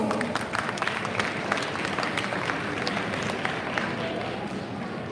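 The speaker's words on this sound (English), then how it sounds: "Let's give them a huge round of applause again" An audience at a school prize day applauds the mentors, a steady wash of many hands with sharp individual claps standing out, moderately loud, with some crowd murmur mixed in.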